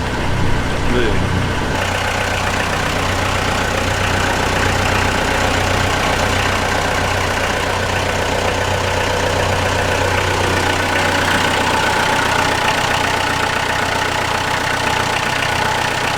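An old yacht engine runs for the first time in over ten years as the boat moves, a loud, steady droning rumble that continues throughout while people talk over it.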